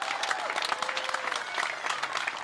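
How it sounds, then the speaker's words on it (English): Crowd applause at a VW show gathering, steady, dense clapping from many hands at moderate distance, continuous throughout with faint voices underneath. "how about a real big round of applause?"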